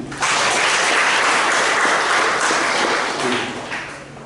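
Applause from a church congregation during a Sunday worship service fills the space as a dense, steady wash of many hands clapping, sustained loud throughout before tapering slightly at the end.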